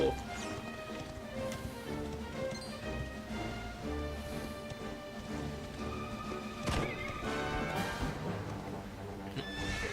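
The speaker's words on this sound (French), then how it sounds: "Et voilà un cheval qui apparaît de nulle part." A horse appears and neighs in the video game Dragon Quest XI, its whinny and hoof clip-clop set against busy in-game music over ten seconds, with a voice talking now and then.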